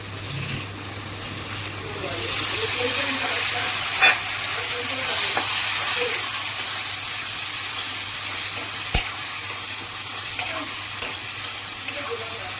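Paneer masala fries and sizzles in a pan, dhaba style, as it is stirred: a steady loud hiss with scraping stirs and occasional sharp clinks against the pan, while a voice talks briefly over the cooking.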